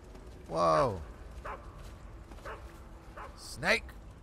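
A guard dog in Metal Gear Solid 3 gives a few short barks and yips, some of them faint, against a steady background of game ambience.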